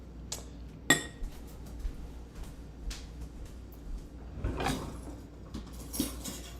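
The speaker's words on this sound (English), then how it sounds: "grab that whisk" Kitchen utensils and a whisk clink and clatter while being picked up during pancake cooking, with scattered metallic taps and a brief louder rattle, close and fairly quiet, no talk.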